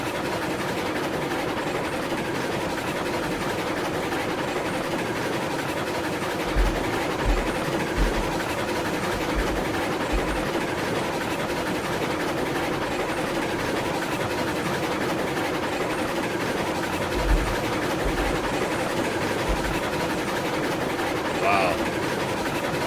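A steam train rumbles along continuously in the railroad game Railroads Online, a loud, steady drone with occasional low knocks and a faint whistle-like tone near the end.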